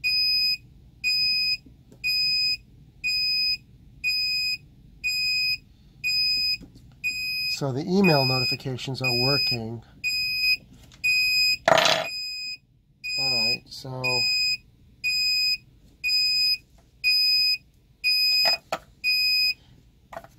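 A Proteus Aquo Wi-Fi water sensor alarm beeps in regular bursts, about one per second, continuing while a person speaks briefly in the middle.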